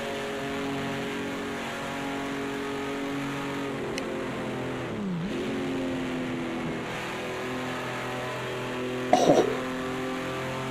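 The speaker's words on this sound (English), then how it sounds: "Just hearing these motors is awesome." Race car engines in the Project Cars 2 video game, a sustained droning engine whine with shifting pitch, one dip and recovery midway, and a brief burst near the end; a voice briefly exclaims.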